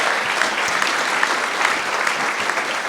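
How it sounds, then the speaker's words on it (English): Audience applause honoring the DeWitt family at a sports event, a loud, dense and sustained round of clapping from a large crowd, even in intensity throughout. "we owe them a big round of applause"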